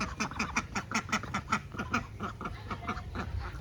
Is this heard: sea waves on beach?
no